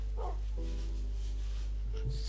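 A dog in the Minecraft video game whimpers and gives a short bark, sounding close over a steady low game hum.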